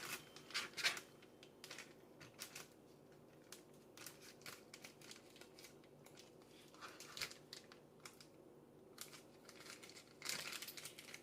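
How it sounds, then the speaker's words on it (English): A plastic Ziploc bag crinkles and rustles as bones, fat and meat scraps are put into it, in quiet, close, irregular bursts of crackling. "I'm going to take these bones and this fat and little chunks of meat and stick it in this Ziploc bag."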